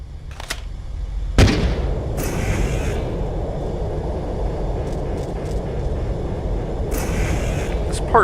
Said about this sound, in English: Use a remote-controlled missile.